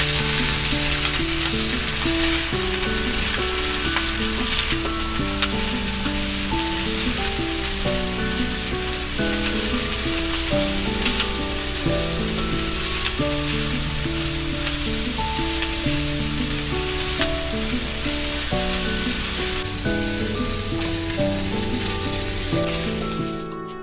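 Yakisoba noodles fry in a hot pan with a continuous, even sizzle that holds steady throughout, while background music plays underneath.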